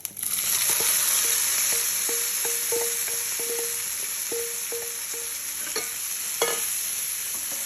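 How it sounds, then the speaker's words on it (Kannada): Cumin, chana dal and urad dal sizzle steadily in hot oil in a pan for a palya, with repeated light stirring clicks from a spoon against the pan and no voices. "ಜೀರಿಗೆ, ಕಡಲೆಬೇಳೆ, ಉದ್ದಿನಬೇಳೆ ಹಾಕ್ತಾ ಇದ್ದೀನಿ ಪಲ್ಯಕ್ಕೆ"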